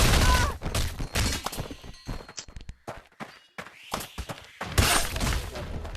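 A nail gun fires inside the VR game Blade and Sorcery Nomad in sharp bursts of cracks and thuds, mixed with clatter and shuffling movement and a brief quiet gap midway.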